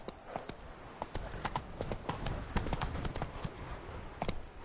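Hoofbeats of a galloping horse in The Witcher 3: Blood and Wine, a quiet, fairly steady clip-clop rhythm with a few louder thuds, some game sounds around it.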